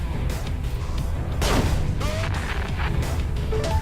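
Sniper weapon fire and explosions in the space combat game Everspace, played in VR with a HOTAS: a loud boom bursts out midway over a constant engine rumble, followed by sharp zapping shots and whistling tones.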